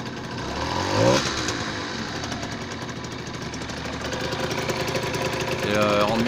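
A 125cc motorcycle engine idles and warms up, running heavily smoking, with a close, steady rough putter that swells slightly at moments; a voice talks over it.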